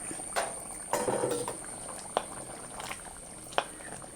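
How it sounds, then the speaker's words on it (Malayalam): Simmering chicken curry in a pot being uncovered and stirred, with soft bubbling and liquid sounds broken by a few sharp clinks of a spoon or lid, close and moderately quiet, with no talking. "നമുക്കിത് തുറന്ന് ഒന്ന് ഇളക്കി നോക്കാം."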